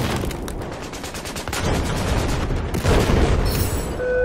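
Rapid, dense gunfire and heavy shotgun blasts from a Battlefield 4 match, a continuous loud barrage of overlapping shots and booms with no talk.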